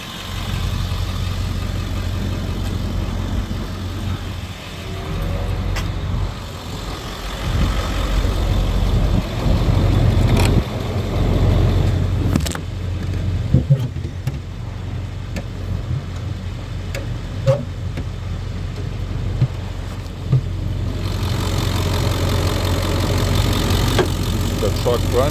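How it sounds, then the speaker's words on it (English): A 2002 Ford F-350 pickup's engine idles steadily through a blow-by check, a low continuous rumble close by with a few faint knocks and shifts in the background. "The truck running."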